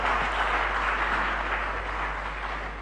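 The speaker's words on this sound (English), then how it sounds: "Please, a bigger round of applause for him." Sustained applause from a large audience at a Ghanaian national address on rebuilding the economy, a steady dense wash of clapping holding at an even level throughout with no voices over it.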